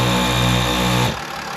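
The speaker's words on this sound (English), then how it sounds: "This is the one that I wired to the compressor, so I'm going to flip it on" An ARB onboard air compressor fitted to a Sprinter van hums steadily and loudly up close, then drops off abruptly to a quieter hiss partway through.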